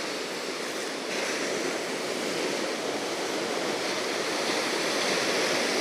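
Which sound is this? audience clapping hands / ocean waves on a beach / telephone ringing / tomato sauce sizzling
ocean waves on a beach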